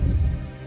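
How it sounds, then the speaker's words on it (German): Low, throbbing heartbeat from the video game Fable Anniversary, a deep pulsing thud heard alone and fading slightly over a short stretch. "Ihr dürft eintreten, aber achtet auf den Herzschlag."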